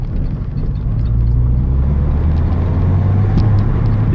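A 2008 Peugeot 207 RC with an aftermarket silencer drones in a loud, deep, steady rumble, the engine and exhaust heard from close by as the car drives.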